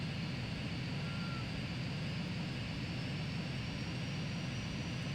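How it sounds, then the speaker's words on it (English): Jet aircraft roaring for takeoff in Ace Combat 3, a dense, unbroken engine rush at constant loudness, close and without any talk over it. "Cleared for takeoff."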